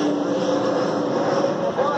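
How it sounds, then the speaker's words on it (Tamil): An airplane passes overhead as a steady, fairly loud engine drone that holds constant for the whole two seconds. "ஃப்ளைட் வர போகுது."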